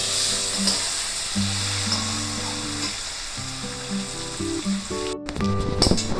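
Three large finely chopped onions go into hot oil with bay leaves for mutton curry, setting off a steady close sizzle and crackle, with a clatter near the end and background music playing throughout.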